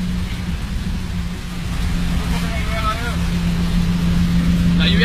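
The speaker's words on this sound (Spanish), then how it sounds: "La lluvia ha empezado en línea recta, o sea, no llovía nada y en un segundo, ¡pum!, ha caído." Sudden heavy rain pours down outdoors in Brazil, a steady dense wash of noise with a low hum underneath and a brief faint voice near the end.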